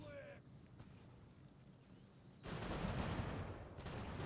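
Musket volleys crackle in a battle of Ultimate General: American Revolution, a quiet rumble first, then a dense, sustained roar of massed gunfire from the middle onward.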